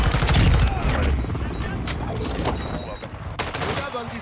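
Dense automatic and burst gunfire with booms fills a Call of Duty: Modern Warfare II firefight, loud and continuous, with excited shouting voices mixed in.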